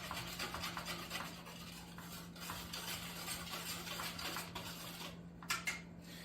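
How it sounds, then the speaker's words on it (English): Butter mixture being stirred together with a utensil in a bowl, a steady scraping and rubbing at low level, with a few sharper clinks toward the end. "Mix it all together really well."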